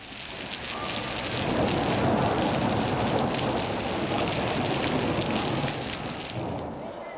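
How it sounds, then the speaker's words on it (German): Heavy torrential rain drums on a plastic sheet roof over an outdoor performance venue in Dresden Hellerau, a dense, loud, unbroken roar that swells and holds steady. "Durch die prasselnden Tropfen auf dem Plastikfoliendach wären die Lieder der Edda nicht zu hören."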